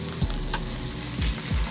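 Burger patties fry in a pan with a loud, continuous sizzle, close by, broken by a few soft scraping and clinking sounds from a utensil.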